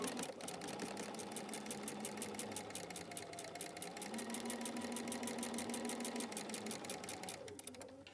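Sewing machine with a seam guide stitches a quarter inch seam, a close, continuous rapid mechanical whir with fast regular needle clatter that winds down at the end.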